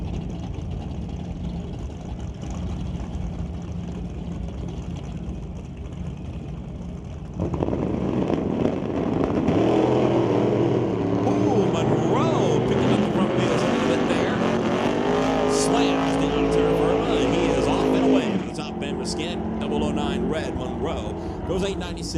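A Ford Model A drag racer runs against a car powered by a 1977 406 cubic inch small-block Chevy, engines bursting loud and near midway through, sustained roaring with pitch changes, with a voice talking throughout.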